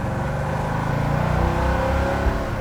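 A 1933 Ford street rod's engine and exhaust rumble loudly up close, a deep steady throb with a slight swell in the middle and a short thump near the end.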